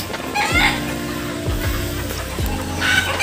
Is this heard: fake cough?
no